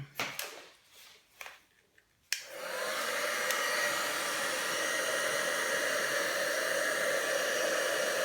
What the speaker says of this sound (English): And then I'm going to heat it with a heat tool, which will be a little bit noisy